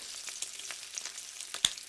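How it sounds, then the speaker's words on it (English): Bacon sizzling in a pan, a dense crackling hiss with scattered sharp pops and one louder snap, steady and close with no voices. "10 hours of sizzling bacon"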